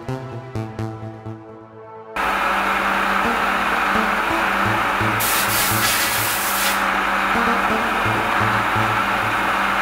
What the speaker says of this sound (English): imperfections like metal burrs get filed off, and then the part is polished so that everything is made to work as it should